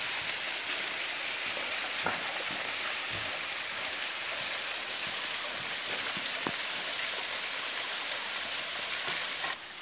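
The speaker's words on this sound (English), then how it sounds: "I'm hoping the waterfall is right here. We've made it to Millard Falls." Millard Falls, a waterfall running with little water, makes a steady wash of falling water with scattered splashy ticks, even and unbroken, with no voices.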